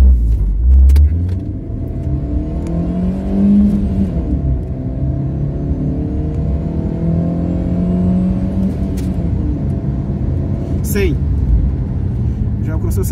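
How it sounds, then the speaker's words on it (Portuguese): Chevrolet Astra accelerating hard from a standstill to 100 km/h, heard from inside the cabin as a steady engine rumble and whir that climbs through the gears, continuous and loud throughout. "Vou dar uma espécie de 0 a 100 aqui, vai? Só para vocês verem como o carro anda legal."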